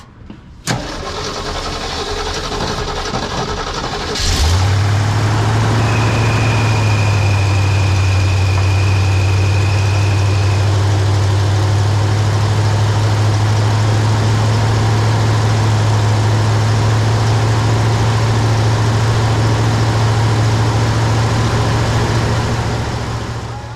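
A Jeep CJ-5 pulled from years of storage cranks and catches, then settles into a steady, loud, close idle that runs without a break to the end, with no voices over it.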